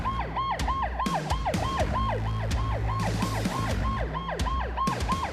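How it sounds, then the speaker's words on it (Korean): A loud wailing airport fire brigade ambulance siren sweeps up and down in a rapid repeating cycle, layered with vehicle rumble and a second pulsing tone. "상황실 교신이 떨어지기 무섭게 사이렌을 울리며 출발하는 공항소방대"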